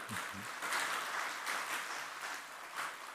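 An audience applauds at a speech event for the Aceh Youth Creative Hub, sustained crowd clapping that holds fairly even throughout, mid-level and unbroken.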